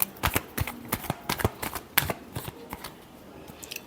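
Tarot cards being shuffled in the hands, a run of quick crisp riffling snaps and flicks in irregular bursts, close and fairly loud, tapering off toward the end with no talk.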